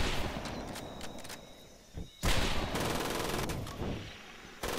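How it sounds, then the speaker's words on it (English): Rapid machine gun fire in Medal of Honor Pacific Assault, loud bursts of rattling shots with brief pauses, a sharp heavy volley near the middle and more firing continuing after. "that machine gun is going to fuck us up"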